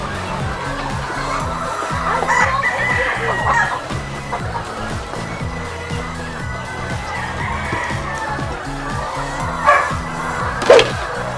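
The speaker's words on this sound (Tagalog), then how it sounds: "alagang mga manok" Chickens on a free-range chicken farm cluck and crow over a steady background hum, with a rooster crowing nearby and several birds calling throughout.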